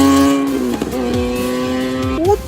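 A Porsche Boxster sports car roars through a drag race against a Ninja ZX10R superbike, a loud close engine howl that climbs through the revs, drops briefly at a gear change and climbs again.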